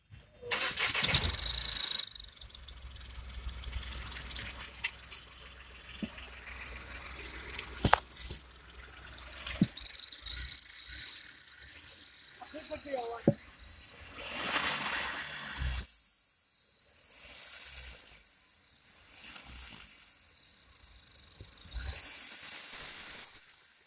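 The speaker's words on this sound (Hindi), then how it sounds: "पहले अपने व्यूअर्स को थोड़ा बता दे इस टर्बो का आवाज़ कैसा आ रहा है" Turbocharger whistle from an engine under test, a high steady whine that rises and falls with revving over a low engine rumble, loud and close, with brief gaps and sharp clicks.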